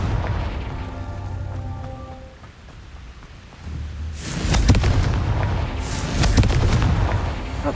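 A Confringo blasting spell goes off in the video game Hogwarts Legacy. It starts with a quieter rumbling bed, then a loud, broad explosive burst midway that keeps crackling and booming to the end.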